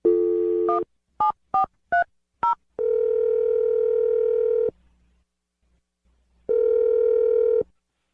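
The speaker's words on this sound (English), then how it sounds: "I'm dialing the phone number right now" A steady dial tone, then a rapid series of short touch-tone beeps as a number is dialed, followed by two long ringback tones separated by silence.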